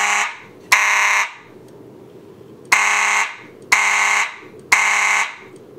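An electronic fire alarm panel blares in repeated loud bursts, each lasting about half a second to a second, with short gaps and a low background hum between them.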